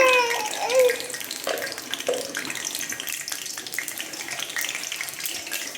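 Cumin seeds sizzle in hot oil as an egg curry is started, a steady crackling hiss with fine pops that holds through the whole stretch, with a brief voice near the start.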